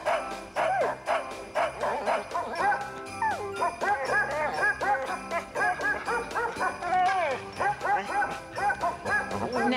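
Dog barks and yips are played as a musical tune, rhythmic repeated bow-wow notes over a steady beat with jingling accents, moderately loud throughout.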